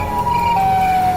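An eerie, frightening siren wails loudly and steadily, holding one sustained tone that shifts slightly in pitch partway through, with no voices.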